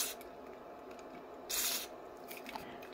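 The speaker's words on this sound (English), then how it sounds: "Once you spray it in, go back and forth there." DeoxIT F5 contact cleaner sprays in a single short hissing burst of about a third of a second, close and clear over a quiet room background with faint handling noises.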